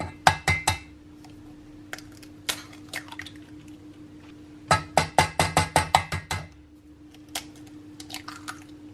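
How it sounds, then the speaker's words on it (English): Eggs, sugar and salt being mixed by hand in a bowl for chocolate cupcake batter, close, wet clicking strokes coming in quick bursts with short pauses between them. "we're just going to mix that through till it's all well combined"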